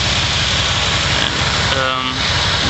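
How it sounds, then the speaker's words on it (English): A car engine idles smoothly and steadily with a new spark plug fitted, a close, even low rumble with someone speaking over it. "Now I have a good spark plug hooked in, and it idles great, perfectly."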